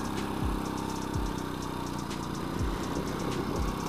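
A Honda Astrea motorcycle engine runs steadily in second gear while touring a rural village road, with a close, continuous mid-pitched drone and a faint rhythmic pulsing under the hum.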